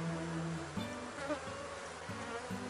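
Honey bees swarm and buzz around wax-filled hive frames holding many eggs. The sound is a close, steady buzzing that rises and dips as individual bees fly near, with no talking.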